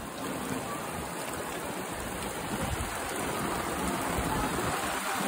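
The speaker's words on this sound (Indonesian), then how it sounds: "Hujan lebat," Steady dense hiss of heavy rain pouring down at Pulau Angsa, a continuous broadband wash with no pauses and no voices.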